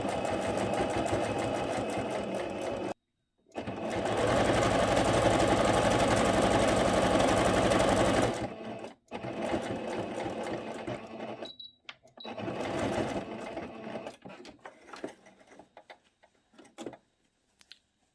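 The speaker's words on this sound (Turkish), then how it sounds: "Onun dışında kalan kısmı dikiyorum." Sewing machine stitching a fitted sheet runs in loud close bursts of rapid mechanical whirring, with short pauses and quieter stretches between runs and no talk.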